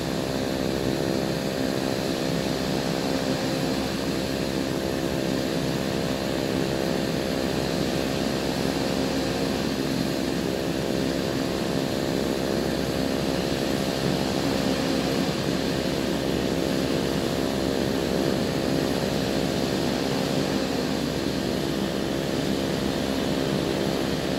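Steady, loud drone of Beechcraft Turbine Duke turboprop engines running continuously in a flight simulator, with a constant whine and rumble throughout.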